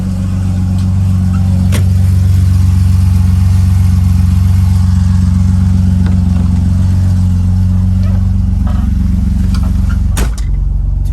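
A Volvo 940 engine runs at a steady, loud, low drone without pause, with a couple of faint clicks near the end.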